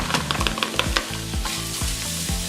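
Chopped onions and carrots fry in a pan with a steady, close sizzle, broken by repeated clatters and scrapes of stirring.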